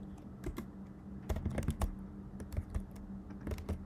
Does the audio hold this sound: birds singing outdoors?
no